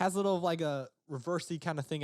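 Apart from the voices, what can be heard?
No distinct noise like a dog, phone or traffic.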